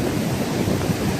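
Strong river water from the Mahanadi rushes through the open Kathajodi barrage gates, a loud, continuous roar of churning water with no voices.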